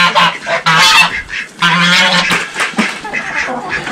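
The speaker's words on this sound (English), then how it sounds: "you can hear the geese" A flock of farm geese honks loudly and close by, overlapping harsh nasal calls in rapid bursts during barnyard chores, with almost no pause between the cries.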